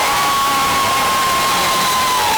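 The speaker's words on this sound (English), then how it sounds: "And the Lorain crowd is up and fired up" Home crowd at a Lorain versus Bedford boys' high school basketball game cheering loudly in a gym, a sustained roar of shouts and whistles during a timeout with no break.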